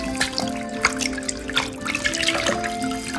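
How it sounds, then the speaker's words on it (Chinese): Running tap water trickles and splashes steadily over sliced fish being rinsed in a kitchen sink, a close continuous wash with small drips and a faint tonal hum, no voices. "鱼片切好以后过水洗一遍"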